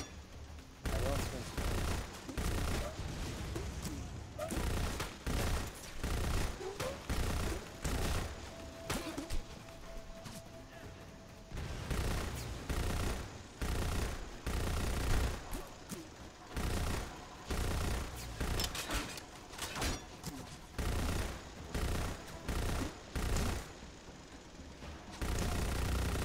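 Dense, continuous gunfire in the co-op video game Lost Planet 2, with rapid bursts and repeated shots over a steady din of battle effects, running almost the whole time with brief pauses.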